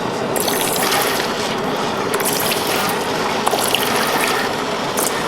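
Molten or melted gold is poured into water during refining, a continuous close splashing and trickling with faint crackles and a few small clicks, no speech heard.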